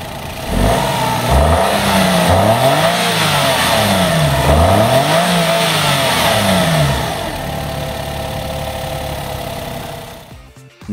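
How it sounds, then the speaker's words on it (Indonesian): A Suzuki Spacia Gear 660cc mild hybrid engine starts up, rising through several revving swells before settling into a steady idle, loud and close, then cutting off at the end. "Nah tentunya kita pengen coba dengerin suara mesinnya."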